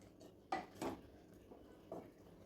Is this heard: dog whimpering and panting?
no